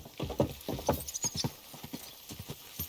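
A horse in the game Kingdom Come: Deliverance II clip-clops with close, distinct hoofbeats in an uneven walking rhythm, moderately quiet, with a brief snort or whinny and little talk.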